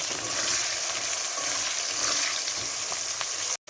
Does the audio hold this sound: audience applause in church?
no